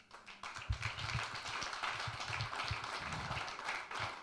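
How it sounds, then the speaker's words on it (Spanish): A church congregation applauds steadily for several seconds during a service, many hands clapping in a dense, lively patter that swells and holds. "¿Por qué no le dan un aplauso al Señor?"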